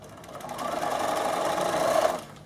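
A Bernina sewing machine straight-stitching down elastic at stitch length 2, a steady fast whirring run of about a second and a half that rises then stops, heard close with no talking.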